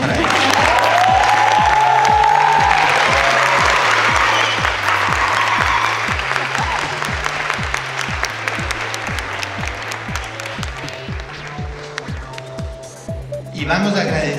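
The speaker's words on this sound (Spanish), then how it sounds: "Un aplauso para ellos." A university audience bursts into loud, sustained applause that swells, then gradually thins into scattered clapping before a final rise, with cheering and a voice over a speaker system partly heard under it.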